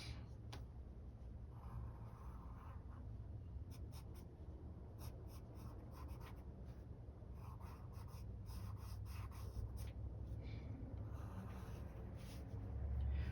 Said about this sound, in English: So this time I want to be really careful not to press the pencil too hard.